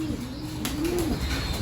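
A racing pigeon in a breeder's loft gives a low, soft coo, one drawn-out call heard close against faint background noise.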